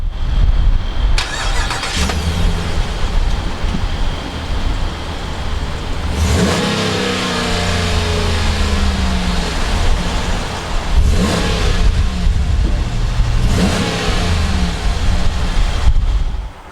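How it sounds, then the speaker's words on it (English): A 2019 Ram 1500 Rebel pickup's Hemi V8 cranks and fires up, settles briefly, then gives several loud, close revs that rise and fall over a steady idle, with no talk. "let's go ahead and fire up this Hemi."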